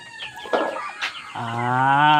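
Clucking and rustling sounds up close at a farmyard in Cavite, Philippines, followed by a loud, sustained harmonic call like a hen squawking.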